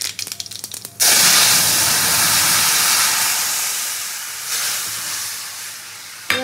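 Sour tok hits hot oil with spluttering mustard seeds and erupts into a loud, steady sizzling hiss that slowly fades, with brief clatter just before it.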